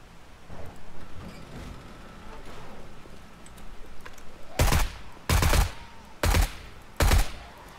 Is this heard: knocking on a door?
no